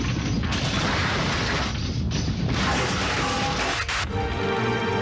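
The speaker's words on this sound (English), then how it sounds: "Suddenly, an earthquake strikes." The 1995 Kobe earthquake shaking an all-night convenience store, a loud continuous rumbling crash of rattling and falling objects with heavier thuds and bangs throughout.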